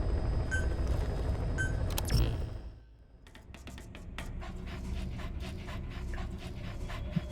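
D-Dog, the companion dog in Metal Gear Solid V, pants steadily and close up over game ambience, with a brief dip in level partway through.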